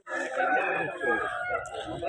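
A rooster crows nearby at a rooster market in Vijayawada, one drawn-out strained call lasting about two seconds, with low background noise.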